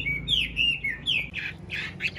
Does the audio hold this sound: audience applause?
no